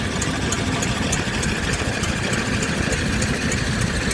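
A steady, rumbling vintage County tractor engine idles close by at a steam show, low and continuous with a faint rhythmic knock, running alone without voices.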